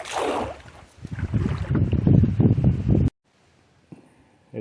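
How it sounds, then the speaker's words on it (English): Wind gusts loudly across the microphone outdoors beside a river, rumbling and buffeting for about three seconds before dropping to near silence, with a faint sound at the end. "Had to wait for the wind to stop"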